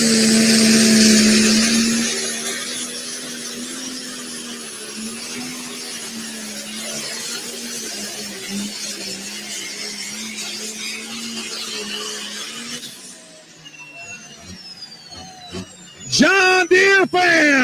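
A John Deere 10,000-pound pro stock pulling tractor roars down the track, its loud engine drone wavering as it pulls, fading later into crowd noise and a sharp burst of sound near the end, with an announcer talking throughout.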